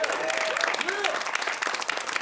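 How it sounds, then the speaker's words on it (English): A comedy club audience breaks into loud, dense applause close by, many hands clapping at once, with a voice speaking briefly over the clapping. "Give yourselves a round of applause."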